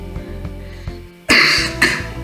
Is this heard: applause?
no